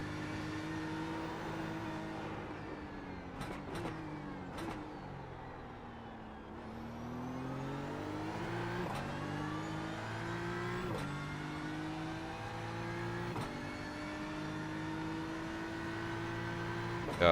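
Car engine in a racing video game on a St Petersburg circuit, a thin whirring drone like a vacuum cleaner that rises with each gear and drops sharply at the shifts, steady and moderately loud, with no voices.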